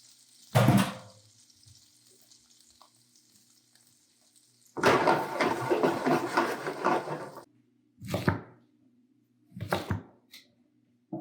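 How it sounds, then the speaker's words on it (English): Shallots sautéing in a pan after steaks: bursts of loud, close sizzling and splattering come in several separate surges, the longest lasting a few seconds, separated by quieter stretches with a low hum. "Get the shallot sauteed, and it does make a splatter mess"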